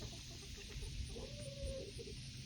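Farm chickens, including red hens and Brahmas, cluck softly and intermittently in a noisy outdoor yard, fairly faint under steady background hiss.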